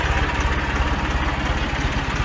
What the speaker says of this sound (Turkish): Biraz dedik rolantide çalışsın birkaç dakika.